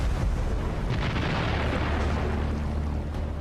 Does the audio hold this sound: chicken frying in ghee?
no